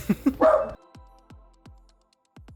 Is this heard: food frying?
no